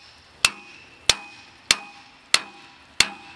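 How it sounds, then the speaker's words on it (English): Five crisp hammer blows drive a spiked log dog into a log at a sawmill, evenly spaced and close, each sharp metallic crack ringing briefly over a quiet background. "A hammer into the wood."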